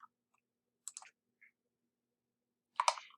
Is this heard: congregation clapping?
no